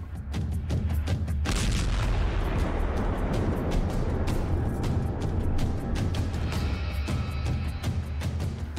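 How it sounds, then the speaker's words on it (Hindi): A Russian missile strike explosion in Ukraine, caught on a mobile phone, lands as one loud, close boom followed by a long roaring rumble and scattered cracking pops. "अचानक एक जोरदार धमाके का वीडियो भी इस लड़की के मोबाइल में रिकॉर्ड हो जाता है"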